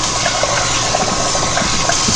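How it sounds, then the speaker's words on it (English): Starch-filled rinse water being poured out while cooking orange chicken, a continuous close rushing splash that stays loud and even from start to finish, with no voices. "pour out the starch-filled water"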